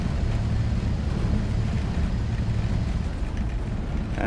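A steady, droning bus engine rumble in a video game holds at an even level throughout, low and continuous like a large vehicle cruising, with no voices.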